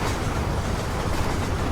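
A train rolls steadily through Red Dead Redemption, giving a continuous dense rumble and wheel clatter that stays close and loud for the whole stretch with no talk.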